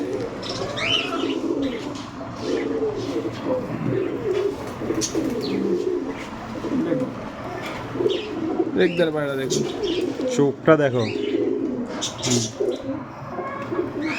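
Pigeons coo repeatedly in soft, throaty rolls close by in a pet bird shop in Serampore, mixed with chirps, while people talk over them throughout.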